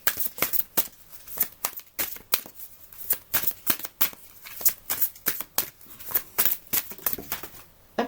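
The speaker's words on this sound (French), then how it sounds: "parce que c'est un paquet de cartes qui tombe." A deck of tarot cards is shuffled and spills, giving continuous loud riffling and slapping card sounds in quick irregular bursts, close by and with no voice over them.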